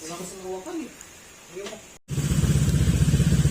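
Someone talks briefly, then a motorcycle engine, reassembled after work on knocking and oil burning, catches and idles loudly nearby with a steady, rapid putter.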